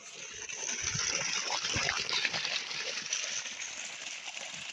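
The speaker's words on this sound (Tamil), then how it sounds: "தண்ணி எப்படி வருதுன்னு போய் பார்ப்போம் வாங்க." Water from a 2 HP borewell motor pump in a village in Erode district gushes steadily and loudly, a dense continuous rush close by with no talk over it.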